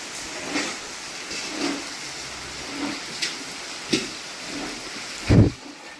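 Rain falls steadily while low rumbles of thunder roll in repeatedly, ending with a louder, closer crack and rumble.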